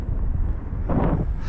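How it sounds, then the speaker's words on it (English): Strong wind blowing outdoors during a model glider flight in high winds, a steady low rumbling buffet across the microphone, briefly swelling into a louder gust. "There's a lot of wind right now."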